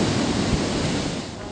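Rough sea waves crash onto Cheranakai beach in Kasaragod during heavy sea surges, a loud continuous roar of surf and churning water heard alone.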